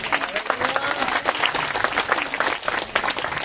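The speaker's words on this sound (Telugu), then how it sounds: "ఈ పర్వదినాన్ని ఒకసారి అందరిలో కూడా చప్పట్లు కొట్టండి." A crowd claps steadily through a village Christmas celebration, dense and continuous applause filling the space, with some voices underneath.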